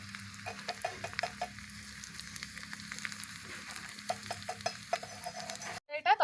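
Kashmiri chilli powder and kasuri methi sizzle faintly in hot oil for a dhaba-style dal tarka, a soft steady crackle with brief stirring clicks, ending in a sharper burst of hissing.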